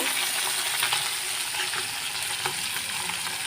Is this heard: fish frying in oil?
yes